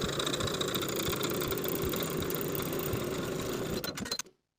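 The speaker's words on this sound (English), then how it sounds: "Now we're going to stay stitch across the top edges with a 1/2 inch seam allowance" Sewing machine running steadily while stay stitching the top edges of linen shirt cuffs, a continuous close mechanical hum that stops abruptly near the end.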